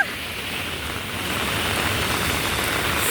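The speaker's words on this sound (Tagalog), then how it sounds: "Ang lakas ng ulan." Heavy rain pours down outdoors in a loud, dense roar of drops that swells slightly and holds steady, with no talk over it.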